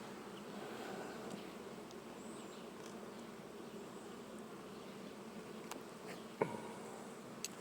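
A dense, steady buzz of many Anatolian honeybees swarming around a hive during a hive change, close and continuous, with a few brief knocks near the end.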